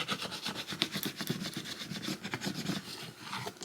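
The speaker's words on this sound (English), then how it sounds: "grab your scraper again, push down really good on all your letters" Scraper pressed firmly and rubbed back and forth over removable vinyl letters on a cupcake tote, a close, continuous scratchy rasping with uneven strokes and no talk.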